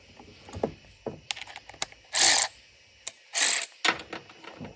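A DeWalt DCF500 12V cordless ratchet turns a strut bolt, giving two short, loud whirring bursts close by. Scattered mechanical clicks and knocks fall between the bursts.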